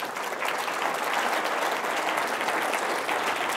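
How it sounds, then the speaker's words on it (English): Steady, dense applause fills a gala hall honoring guests, a continuous wash of many hands clapping at even loudness throughout, with no voices rising above it. "Round of applause for all of our guests up here tonight"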